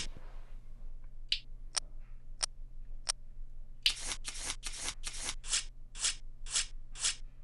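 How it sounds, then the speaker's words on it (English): Baccarat playing cards dealt at a table, a series of short crisp snaps and slides, sparse at first then a quick run of about nine evenly spaced sharp card sounds over a steady low hum. "One card to player. One card to banker."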